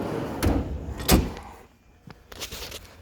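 A tool box drawer slides open on its runners, giving a couple of sharp metallic clacks followed by a quieter scraping glide and a softer final knock, close and fairly loud, with no voices.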